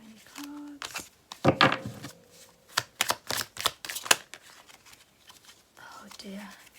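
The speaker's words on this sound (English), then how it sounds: "The cards, tarot is flipping." A deck of tarot cards is shuffled and handled close up, with quick papery riffles and flicking bursts separated by pauses, while a soft voice talks at the start and end.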